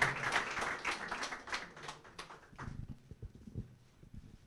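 Applause for guests on a futsal television show, a studio audience clapping loudly at first, then thinning to a few scattered claps as it fades out.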